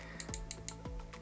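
Leupold VX-Freedom 3-9x40 rifle scope elevation turret being turned, a series of crisp close clicks spaced irregularly, several sharp detents in quick succession with faint tonal hum behind.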